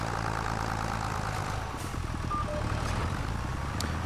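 A tractor engine in a farming video game drones steadily at low pitch, a constant heavy hum with no variation, alone without talk.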